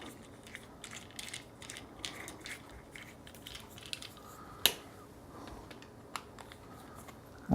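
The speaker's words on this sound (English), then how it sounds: "And this screws onto the Joby ball head." Quiet mechanical clicking and light scraping as a mount is screwed onto a Joby ball head, with small irregular ticks throughout and one sharper click near the middle.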